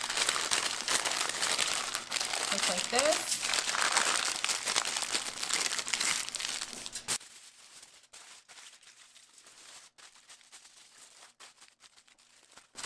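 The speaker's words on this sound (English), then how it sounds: "So just use a parchment paper." Parchment paper crinkles and rustles loudly as it is folded around turkey stuffing in a home kitchen, then the sound drops away to near quiet, with a brief spoken remark.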